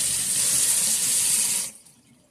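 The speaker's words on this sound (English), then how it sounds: "Give it a good rinse and wash." A cucumber is rinsed under a kitchen tap, with a steady rush of running water up close that stops abruptly near the end.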